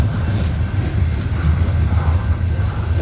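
A CSX coal train, C670, passing at night: a steady, heavy low rumble of rolling freight cars, continuous and fairly close, with no voices.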